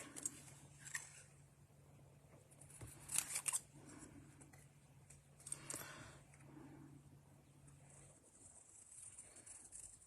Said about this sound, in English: using the biggest pair of scissors I can find